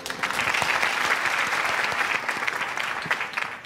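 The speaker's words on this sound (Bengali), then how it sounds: "আমরা সবাই সবার জন্য একটা জোরে হাততালি দেই" A studio audience at a beauty reality show applauds the contestants with sustained dense clapping, loud and close, holding steady for several seconds before tapering slightly.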